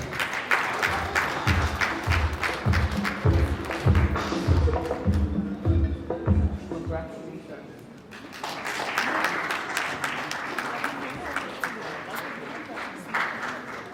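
Applause at an awards ceremony honouring CEOs and officials, a room of hands clapping under amplified music with a steady beat and talk, easing briefly before the clapping and crowd noise swell again.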